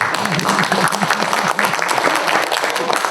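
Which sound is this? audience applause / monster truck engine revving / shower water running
audience applause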